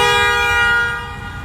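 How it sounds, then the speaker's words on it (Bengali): A CNG auto-rickshaw sounds a loud, sustained single horn blast on a busy road on a foggy morning, heard through an open car window. The blast tapers off partway through. "সিএনজির হর্ন কি দেখছিস? মারাত্মক মনে হয়"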